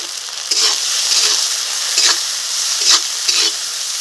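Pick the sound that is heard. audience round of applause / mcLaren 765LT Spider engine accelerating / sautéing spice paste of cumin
sautéing spice paste of cumin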